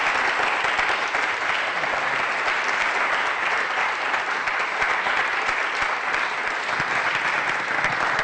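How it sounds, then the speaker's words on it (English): Audience applause for Dr. Carrington at a program, a dense, steady wash of clapping that stays loud and even from start to finish with no voices over it. "let's give a round of applause for Dr."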